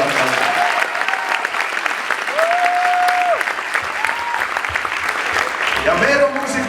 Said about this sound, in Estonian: siis teeme ka pillimängijatele suure aplausi.